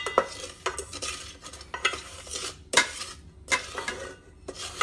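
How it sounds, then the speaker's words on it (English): Kitchari spice mix and salt stirred in heated oil in a pan: brisk, repeated scraping strokes of a spoon against the pan over a soft frying sizzle, close and unaccompanied by speech. "And then you mix it around."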